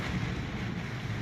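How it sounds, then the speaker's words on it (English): Hurricane Dorian's wind and rising floodwater batter Freeport, Bahamas, making a loud, steady, close roar of gusting wind and rushing water with no pauses or talking. "the water is just battering because you got the wind and the water together"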